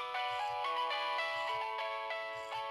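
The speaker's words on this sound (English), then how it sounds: "They are classic Nokia tone." The classic Nokia ringtone plays from a Nokia N70, its bright, tinkling melody clear and alone, note after note in a steady rhythm.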